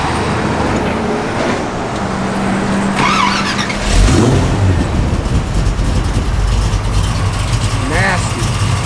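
A 1969 Chevrolet El Camino engine cranks and catches, then settles into a loud, rumbling idle with rough low-end throb, close by, while people talk over it.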